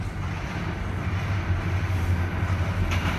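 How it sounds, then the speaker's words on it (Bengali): A train passes in Tejgaon, Dhaka, near a mosque, heading toward Tejgaon: a steady, moderately distant rolling rumble with faint rail clatter, no talk. "ট্রেন যাচ্ছে"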